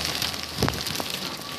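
Rain and hail pour down hard during a storm chase, a dense, constant hiss of drops striking surfaces nearby, broken by a couple of brief sharper knocks.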